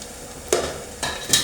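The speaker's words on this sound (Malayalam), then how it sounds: "അപ്പം ഇതെല്ലാം കൂടി ഇട്ടൊന്നും നമുക്കൊന്ന് മൂപ്പിക്കാം, ഒന്ന് വഴറ്റുക" Ginger, garlic and shallots sautéing in a frying pan: a low sizzle broken by three loud stirring scrapes, close and without talk.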